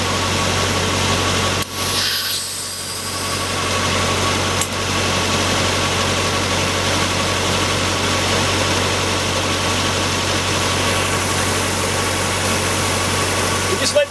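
A Nissan Navara engine idles steadily and close by after an intake cleaning treatment, giving a constant low hum with a couple of brief clicks and knocks over it.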